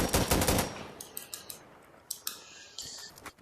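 A weapon fires in the VR game Insurgency: Sandstorm, a fast burst of automatic shots up front, then a few spaced single clicks and mechanical clacks, fairly faint and with no speech.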